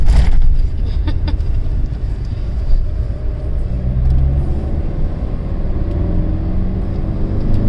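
A car engine drones steadily while driving along a mountain road between Chandigarh and Narkanda, a loud, continuous rumble with road noise and no pauses.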